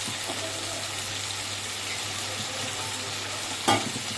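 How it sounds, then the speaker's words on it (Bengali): Crushed cardamom being stirred in a frying pan while making begun bharta, a soft steady sizzle with faint scraping under it and one brief clack near the end; no one speaks. "এলাচটা দিয়ে ভালো করে নাড়বো"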